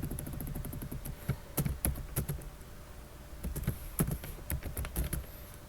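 Quiet, close typing on a computer keyboard, irregular clusters of sharp key clicks with short pauses, no talking.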